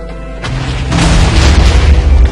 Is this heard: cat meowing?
no